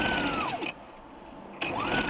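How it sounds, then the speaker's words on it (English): A sewing machine top-stitches bias tape trim onto a wrap maxi skirt, running in two steady close bursts with a short pause between them. "here I was top stitching the bias tapes to decorate the skirt"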